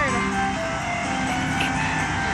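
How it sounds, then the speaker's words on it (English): A neighborhood ice cream truck's musical jingle rings out continuously, fairly loud and tinny, with faint vehicle rumble underneath and no talking. "We're just here to videotape the song of that ice cream truck."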